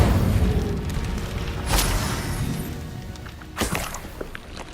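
A fire spell cast in the Hogwarts Legacy game lands with a deep boom in the opening second. A second burst follows near the middle, and a third, sharper hit comes later. Dense rumbling game effects fill the gaps between them.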